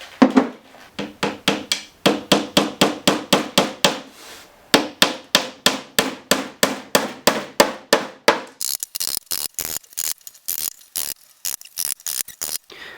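Panel pins are hammered into wooden panels during a van build, with a rapid run of sharp, close taps in quick bursts that turn lighter and more clicking toward the end.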